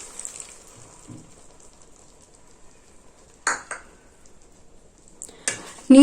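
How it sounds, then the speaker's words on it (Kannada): Cornflour slurry poured into soya chunk and gobi manchurian gravy, with a few soft stirring scrapes and light clinks of a utensil against the pan in an otherwise quiet kitchen, plus a louder knock near the end. "ಸ್ವಲ್ಪ ಕಾರ್ನ್ ಫ್ಲೋರನ್ನ ನೀರಲ್ಲಿ ಕಲಿಸ್ಕೊಂಡು ಹಾಕೊಳ್ತಾ ಇದ್ದೀನಿ"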